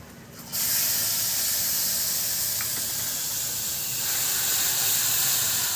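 Turmeric and spices hit hot oil with a loud, steady sizzle that starts abruptly and holds as a broad hiss, close up and with no talking.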